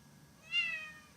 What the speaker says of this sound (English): Meow, yeah.